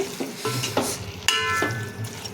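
Chicken biryani stirred in a pot on the stove, with scraping strokes of a spoon against the metal over a steady frying sizzle, close and moderately loud, with no talking.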